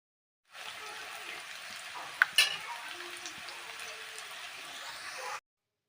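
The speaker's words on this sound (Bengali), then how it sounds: "আমার আলুগুলো দেখো একদম খুব সুন্দর ভাজা হয়ে গেছে" Small potatoes fry in a pan in a steady crackling sizzle, close and fairly quiet, with a couple of brief clinks partway through.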